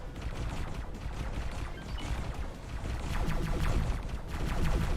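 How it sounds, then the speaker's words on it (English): A torpedo blows up a target in the space game X4: Split Vendetta, giving a dense, crackling run of explosive bursts and debris impacts that swells louder toward the end. "what a lovely day for a fiery hot explosion"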